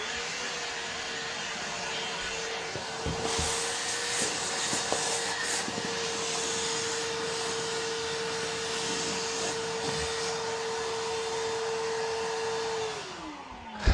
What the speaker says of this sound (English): I got a little bit of dust here. I'm just going to suck up real quick.